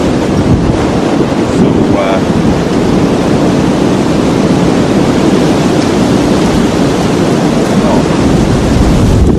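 Strong wind gusting outdoors at a bushcraft camp, a loud continuous roar buffeting the microphone throughout, with a surf-like rushing texture and no speech.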